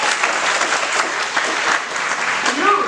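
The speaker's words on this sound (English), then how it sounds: "Can we clap for her?" A room full of people claps steadily, a dense and continuous burst of applause that carries through to the end.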